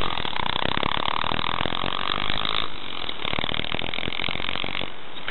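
A 125 cc pit bike engine buzzes hard and raspy at high revs, holding a steady rough drone with a slight dip midway as the rider tries for a wheelspin outdoors.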